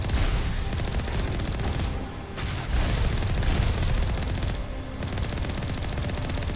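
A missile barrage and rattling gunfire in the Mass Effect video game, with dense rapid shots and heavy booming impacts rolling on in loud waves, briefly dipping before surging again.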